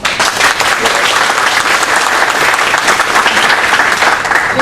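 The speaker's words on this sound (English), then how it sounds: "Keep your hold and applause till we get to the end of the candidates." An audience at a Lieutenant Governor candidates' forum breaks into loud, dense applause that continues steadily for several seconds without pause.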